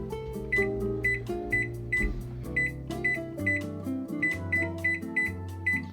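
Oven control panel sounding a run of short, high beeps, some in quick pairs, repeating across the clip while a backing music track plays underneath.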